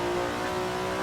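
A 1960s GTC race car in a racing simulator pulls hard in third gear, the engine droning steadily at high revs as it climbs, loud and continuous with no one talking.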